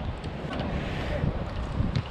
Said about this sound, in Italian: Tanto sole, ma anche tanto vento.